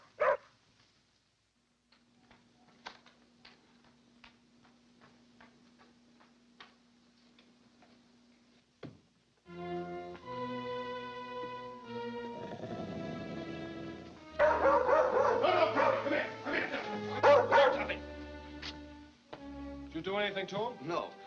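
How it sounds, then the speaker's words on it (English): A dog in an old film scene gives a brief, sharp bark at the start. Faint ticking and quiet moments follow before loud orchestral music swells and takes over. "The dog's just vicious."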